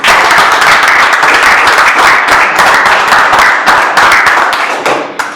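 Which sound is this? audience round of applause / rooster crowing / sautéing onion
audience round of applause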